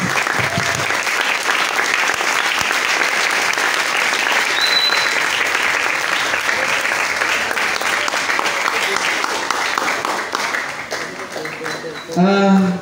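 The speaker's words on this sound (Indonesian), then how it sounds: "tepuk tangan yang meriah untuk narasumber ini." Lively applause from a school assembly audience honoring a guest speaker, dense sustained clapping throughout that fades near the end as a voice briefly comes in.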